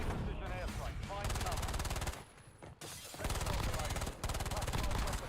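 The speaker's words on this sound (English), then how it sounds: "Enemy precision airstrike" Rapid bursts of explosions and automatic gunfire from an enemy precision airstrike in Call of Duty on Rebirth Island, dense and loud with a short lull midway before the barrage resumes, with speech faintly mixed in.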